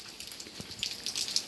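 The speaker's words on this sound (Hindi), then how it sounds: "आज के दिन की पहली बारिश और पहली बारिश में बर्फ़बारी" Light rain mixed with early snowfall in the mountains, heard as faint, scattered droplet ticks over a soft wet hiss, with no voices.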